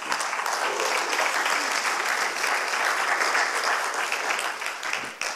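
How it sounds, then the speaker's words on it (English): A church congregation applauds in a sustained burst of dense, even hand clapping that fills the room, loud and continuous for several seconds before easing slightly at the end. "give the Lord a hand clap, please."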